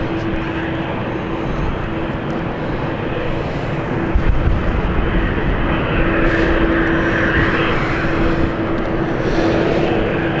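A jet airliner on the Geneva flight runs at London City Airport, a steady engine whine and rumble with a constant tone, growing slightly louder midway.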